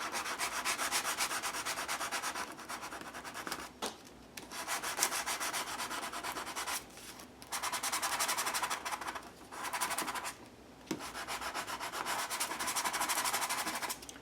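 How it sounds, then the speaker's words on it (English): Sandpaper rubbing against the edges of paper cards, a close, steady scratchy rasp in repeated strokes broken by a few short pauses, with no speech. "Better grab some sandpaper."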